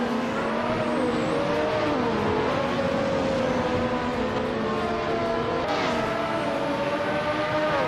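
Race cars in a racing video game roaring past one another, with continuous loud engine whine that rises and falls in pitch as the cars accelerate, and several overlapping motors at once.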